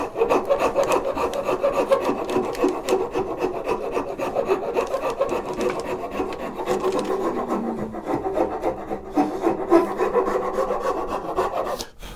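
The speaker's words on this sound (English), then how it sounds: "And then I'm going to come in with my finer file." A finer file rasps steadily across firewood while a wooden grooving plane is shaped, close and loud, with a continuous run of quick back-and-forth scraping strokes and no talk.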